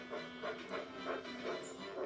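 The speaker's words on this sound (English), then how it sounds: "Later, Thomas was steaming along" A cartoon steam train effect for Thomas the tank engine, a soft rhythmic chugging that pulses steadily about four times per second at moderate distance.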